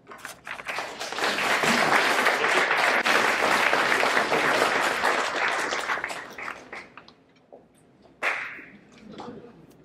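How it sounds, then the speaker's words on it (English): Applause from a crowd at a 2019 sports hall of fame event fills the first seven seconds with steady, loud clapping, then fades into scattered claps and a brief sharp burst near the end. "Round of applause for Tom."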